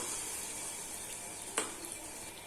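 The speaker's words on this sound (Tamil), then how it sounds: "இனி ஒரு கரண்டியா போண்டா மாதிரி மொந்து ஊற்றிக்கலாம்." Bonda batter sizzles as it drops into hot oil, a steady close frying hiss with one sharp clink of a ladle or pan partway through.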